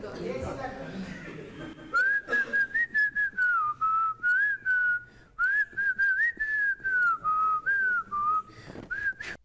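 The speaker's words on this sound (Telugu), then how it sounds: "ఏ పాటకి విసిల్ కొట్టాలి?" A guest on a Telugu TV courtroom-style talk show whistles a couple of lines of a film song: a clear, sustained melodic tune in short phrases with brief breaths between, close and loud in a quiet studio.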